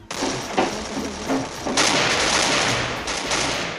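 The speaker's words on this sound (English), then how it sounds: "Where am I getting shot from?" Rapid bursts of automatic gunfire ring out in a Free Fire battle royale match, sharp repeated shots with a louder sustained volley midway, close and loud with no talking.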